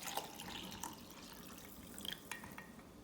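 Warm water pours into a jar holding dry yeast for pizza dough, a steady faint trickle and splash with small drips.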